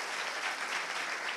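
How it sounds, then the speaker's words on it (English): Audience applause at a tech conference in Medellín fills the clip, a dense, even burst of many hands clapping from a crowd, steady throughout with no voices on top. "Let's give him a round of applause."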